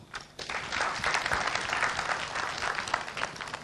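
Audience applause at a football awards ceremony, a dense burst of clapping that rises quickly and holds steady for a few seconds, fairly close and loud.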